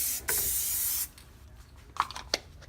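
Spray paint hisses from an aerosol can onto an airsoft gun in one loud, steady burst lasting about a second, followed by a quieter stretch with a few faint clicks and rustles.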